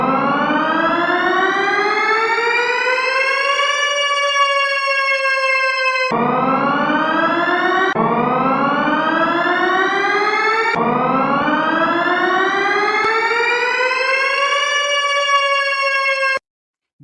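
An electronic alarm siren wails loudly in repeated rising sweeps that climb, hold at a steady tone, then restart abruptly several times before cutting off at the end; no speech is heard over it.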